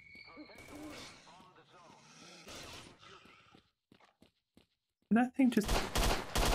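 Gunfire from STALKER: Shadow of Chernobyl, a loud burst of rapid shots near the end after quieter stretches where someone talks over the game.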